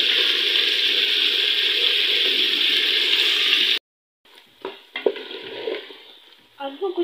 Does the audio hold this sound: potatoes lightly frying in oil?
yes